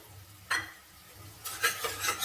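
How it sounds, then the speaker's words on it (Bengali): Spoon stirring spice masala with added water in a pan for an egg recipe, two bursts of scraping and bubbling, the second longer and louder, close and without speech. "দেখুন জলটা দিয়ে আমি এবার একটুক্ষণ নাড়াচাড়া করবো।"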